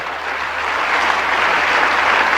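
Worshippers in a church break into sustained clapping, a thick and even wash of many hands that stays loud and constant throughout, with no voices on top.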